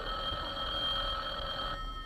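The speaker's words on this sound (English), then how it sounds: "Answer the phone, will you, Dennis?" A telephone rings in an old radio comedy, with a steady, continuous electric bell tone held for about two seconds and then cutting short, heard alone with no voices.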